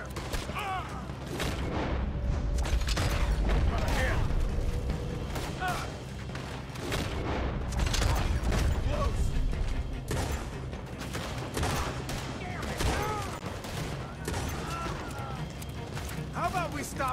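Sustained gunfire during a shootout in the video game Red Dead Redemption 2, dense overlapping shots and booms throughout, loud and continuous, with shouted voices mixed in.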